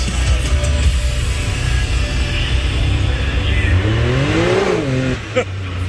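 A Can-Am side-by-side's engine revs hard and steadily as its tires spin sideways, the rising and falling pitch sweeps loud and close throughout, with a voice briefly audible under the engine noise.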